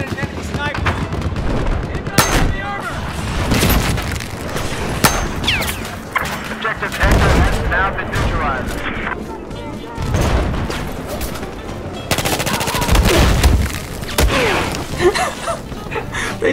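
Gunfire and explosions in a Battlefield match, dense booming shots and bursts continuing throughout, loud and close, with someone talking over the combat.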